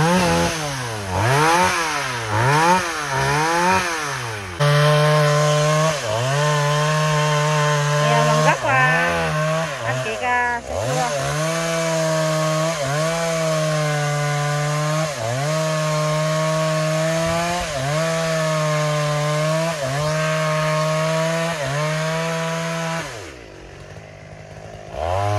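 A chainsaw runs loud and close, cutting overgrown bushes in an abandoned garden, its engine revving up and down in waves and then holding a steady whine while cutting, stopping near the end.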